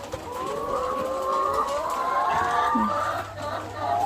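Laying hens feeding in their pen cluck steadily in overlapping, warbling calls, close and fairly loud, with a continuous low hum beneath and no talk.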